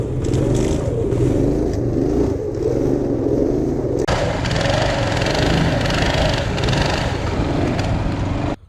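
A small engine on an off-road shopping cart runs steadily and loudly in snow, droning close by throughout with a rougher, brighter surge of revving partway through and no talk.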